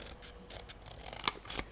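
Scissors snip repeatedly through paper in quick, irregular cuts, close and crisp, with a sharper click near the end.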